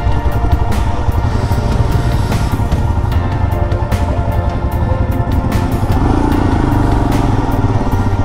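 Motorcycles of a group of riders on a weekend ride near the Agra Expressway give a loud, steady engine rumble and idle, close by and continuous without a break, with a few light clatters on top.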